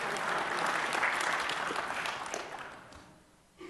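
Applause from a conference audience at a security talk on tamper-evident devices, a fairly steady wash of hands that fades out over a few seconds, with no voices over it.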